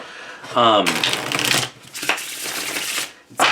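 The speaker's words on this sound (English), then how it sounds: "It's got this delicious, shuffle because it's cardstock that's designed for shuffling." Tarot cards of shuffle-ready cardstock are riffled and shuffled by hand in a quick, crisp flurry of papery flicks, loud and close, with a voice speaking briefly at the start.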